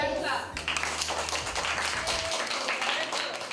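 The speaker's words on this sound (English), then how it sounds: "Give her a clap." An audience claps for a young spelling bee champion in a steady, dense wash of applause that runs through the whole moment. A low hum and some voices sit underneath the clapping.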